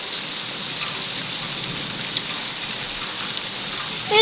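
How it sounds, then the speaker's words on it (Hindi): Heavy storm rain pours down steadily, a dense, even hiss of drops drumming on surfaces close by, with a few brief louder patters and no voices. "बारिश काफी तेज है"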